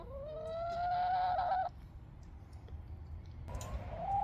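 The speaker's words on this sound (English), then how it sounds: "I'm going to introduce you to some of my chickens." Chickens on a small flower farm call outdoors, a sustained rising squawk lasting over a second, then quieter background, and another short call near the end, over low outdoor rumble.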